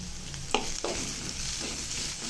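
Spices and spring onion curry fry in a pan while a spoon stirs, a steady close sizzle broken by two sharp scraping strokes of the utensil, with no voices.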